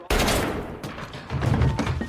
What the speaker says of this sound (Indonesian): tiba-tiba pistol itu menembak tanpa disengaja